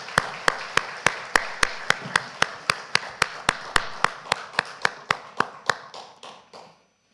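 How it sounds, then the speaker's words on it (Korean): A church congregation claps together in slow, evenly spaced unison beats, around twenty sharp claps that thin out and fade at the end, with no voices. "하나님께 영광의 박수 올려드립니다."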